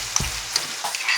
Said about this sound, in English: I will turn down the heat to make it sizzle.